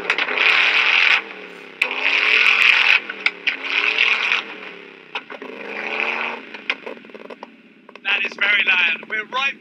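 A custom-built car engine with an aircraft ignition system revs close to the exhaust, a harsh buzzing roar rising and falling in repeated bursts with brief gaps and a choppier, stuttering stretch near the end.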